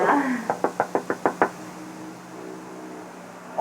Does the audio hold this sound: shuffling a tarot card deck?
no